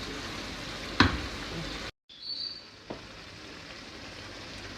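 Tomato paste and chili pepper sizzle quietly in a frying pan while being stirred, with a sharp clatter of the utensil and a brief burst of louder frying after a short pause.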